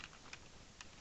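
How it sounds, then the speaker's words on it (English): Keys on a computer keyboard are typed with three or four distinct, quiet clicks spaced irregularly, heard up close against a faint background with no talking. "I'm going to type"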